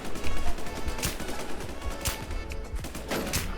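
Rapid gunfire in the online zombie survival shooter WarZ, a dense, loud, continuous series of shots with sharp bursts standing out, no talk over it.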